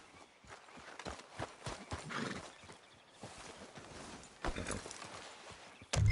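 Horse hooves clip-clop at a walking pace in the Red Dead Redemption 2 video game, a steady series of soft, distinct hoofbeats with a louder thump at the very end.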